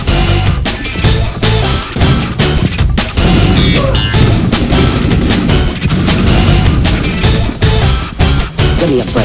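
Loud explosions and booms burst repeatedly over a constant din of gunfire, a dense, chaotic battle soundscape with no talking.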